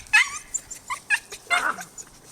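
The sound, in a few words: Norwegian Elkhound dogs whimpering and yipping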